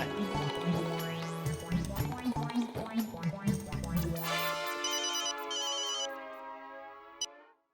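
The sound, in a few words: telephone ringing during a call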